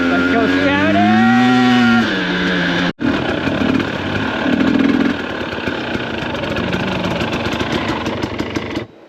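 Dirt bike engine running on snow at night after a storm in the Pacific Northwest, a loud close motor revving and then settling into a steady drone, with a person talking briefly over it.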